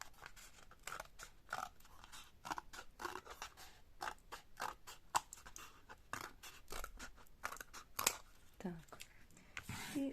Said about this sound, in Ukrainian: Я її можу тут навіть ножицями так обрізати.